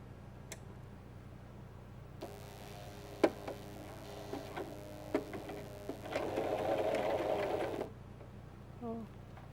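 Sewing machine running medium-length stitches through kameez fabric, short bursts of rapid mechanical whirring with clicks and knocks in between, close and fairly quiet.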